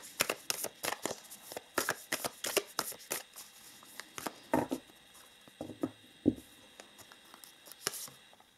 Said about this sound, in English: Let us pull some other oracle cards for you.